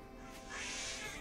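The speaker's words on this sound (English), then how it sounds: "What does the cat beckoner what keep screeching at me for?" A cat beckoner in a video game lets out a sustained, rising screech that swells in the second half, heard at moderate level with no talking.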